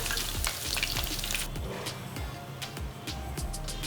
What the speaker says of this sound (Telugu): ఇప్పుడు ముందు వేయించుకున్నట్టే మిగతా పీసెస్ని కూడా వేయించేసుకుందాం